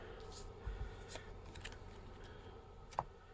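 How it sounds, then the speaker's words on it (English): Gamble cards for a tabletop baseball game being shuffled by hand, a soft riffling rustle with a couple of sharper card snaps, fairly quiet against a low room background and no speech. "we'll give these a quick shuffle and a cut, and we'll get started"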